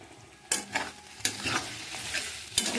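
Tomatoes frying and being stirred in a pan for a Tripura-style soup, with loud scraping sizzle bursts at intervals over a steady low crackle, close by and without talk.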